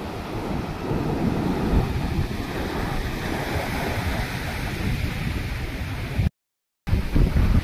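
Continuous roar of waves washing against the shore, mixed with gusty wind buffeting the microphone, with a brief silent gap near the end.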